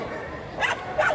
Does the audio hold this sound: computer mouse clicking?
no